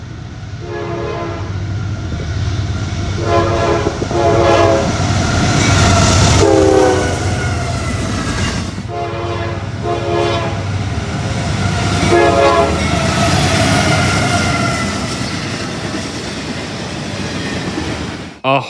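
A freight train's horn sounds a salute as it passes a depot, loud and close, in several repeated long blasts over the steady rumble and clatter of the passing train.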